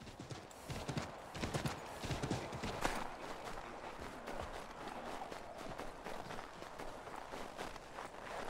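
Horse hooves clip-clop steadily in Assassin's Creed III, a brisk, fairly close running gait that continues throughout over a busy background of game ambience.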